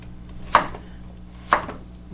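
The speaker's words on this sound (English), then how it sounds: "He's chopping some onions there." Red onions being chopped with a knife on a board: two sharp, close chops about a second apart, with quiet pauses between them.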